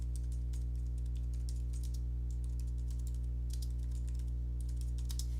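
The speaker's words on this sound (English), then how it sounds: "So I'm going to type in" Keystrokes on a computer keyboard come in quick bursts of clicks over a steady low hum, pausing briefly midway and then resuming, with no talking.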